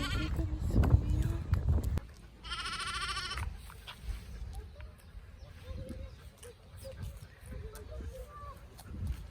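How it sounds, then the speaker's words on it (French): A flock of sheep bleats in a field, several loud wavering calls near and farther off over rustling ambience, with people talking at the start. "C'est pas des chèvres, c'est des quoi? C'est des moutons."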